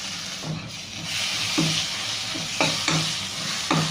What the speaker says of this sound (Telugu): అల్లం తెల్లగడ్డల పేస్ట్ వేసుకున్నాము